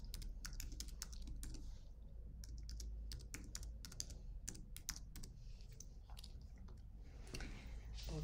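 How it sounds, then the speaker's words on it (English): Rapid keystrokes on a computer keyboard as an email address is entered, a busy run of close, crisp clicks over a steady low room hum with no voices. "Here we will type your email address."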